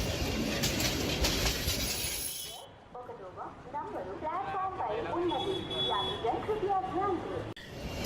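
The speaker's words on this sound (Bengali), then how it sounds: "প্ল্যাটফর্মে একটু অপেক্ষা করতেই ট্রেন চলে আসলো" A train pulls in at a station platform in a Bengali horror cartoon, a loud broadband rumble for the first few seconds that cuts off abruptly, giving way to speech.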